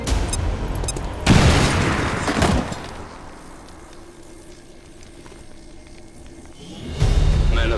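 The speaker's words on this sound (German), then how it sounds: "da hauen wir die Granate rein." A grenade goes off in the turn-based war game XCOM 2, a loud booming blast with a roaring, crackling tail that fades out before a second heavy burst erupts near the end.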